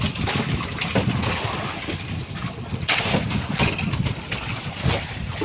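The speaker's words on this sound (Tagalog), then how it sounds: "Lakas yung alon dito banda." Wind and choppy waves around a small fishing boat at sea, a loud, continuous rough rushing with irregular gusts and splashing surges close by.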